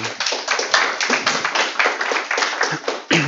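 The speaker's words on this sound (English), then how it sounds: "give him an applaud, as always" Applause from a seminar audience on environmental economics: a dense run of hand claps filling the whole stretch at steady, moderate loudness, fairly close, with no talk over it.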